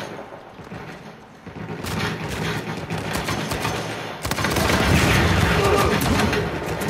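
Loud, dense bursts of AK-47 automatic fire sound in the Uncharted 4 video game, sustained and growing heavier toward the end, with no voice over it.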